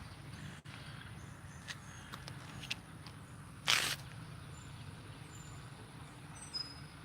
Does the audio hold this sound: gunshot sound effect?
no